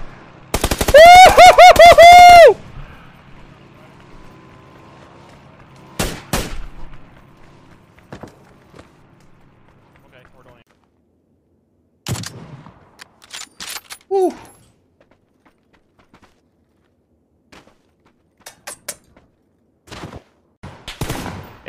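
Loud automatic gunfire in PUBG opens with a sustained, rattling burst, then scattered single shots and short volleys follow at intervals, with brief excited voices between them.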